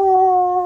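A dog howls in one long, steady, tonal wail, close and clear, with no other sounds.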